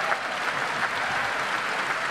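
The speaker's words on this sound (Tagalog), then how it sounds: "Pero bakit pumapalakpak yung mga congressman?" Congressmen clap together in a legislative session, a dense, even round of applause filling the room at steady loudness before stopping abruptly.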